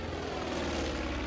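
A propeller airplane engine drones steadily in the video game Far Cry 5, a continuous low rumbling hum held at moderate level with no speech over it.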